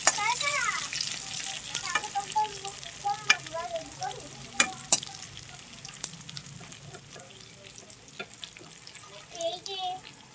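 Onion and green chili cooking in hot oil in a pan for a pointed gourd and fish curry, a steady close sizzle broken by repeated scraping stirs and clinks of a spoon against the pan.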